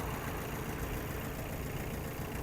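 A Yanmar FX-42 mini tractor's diesel engine idles steadily while warming up, a constant low rumbling drone with no change in pace, close and loud with no voices.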